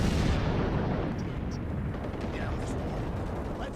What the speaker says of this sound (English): And then we cut to one of the anti-aircraft guns.